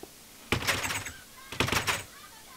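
A wooden door opening in the Minecraft video game, two short clunking bursts about a second apart, fairly close and clear, with no talk over them.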